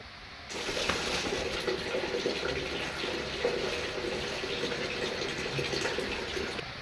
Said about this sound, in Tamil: இந்த சிக்கனை இப்போ நல்லா கழுவி எடுத்து வச்சுக்கிற வேண்டியதுதான்